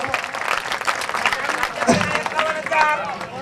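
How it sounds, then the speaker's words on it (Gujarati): A crowd claps together at a donation auction during a temple consecration ceremony in a village, a loud burst of applause mixed with chatter and a voice speaking over it. "તાળી તો પાડો"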